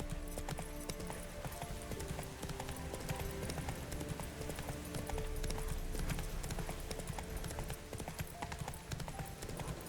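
Roach, Geralt's horse in The Witcher 3, gallops with steady, rapid clip-clopping hooves that stay close and loud across the whole stretch, over a dense game soundscape with no voices.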